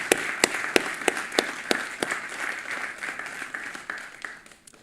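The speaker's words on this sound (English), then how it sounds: "please join me in another round of applause for them" An audience at a networking awards conference claps, sharp individual claps at first thickening into steady applause that gradually thins and fades toward the end.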